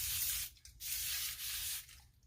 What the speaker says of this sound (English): I'm just going to spray it on my face.